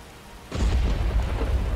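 A low rumble of thunder rolls in over steady rain in Skyrim, swelling suddenly and lingering as a deep, loud roar without any talking.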